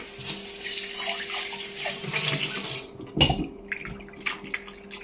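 Running tap water splashes steadily over pieces of bitter gourd being washed and squeezed by hand in a bowl, then cuts off with a clunk, leaving scattered drips and light handling sounds.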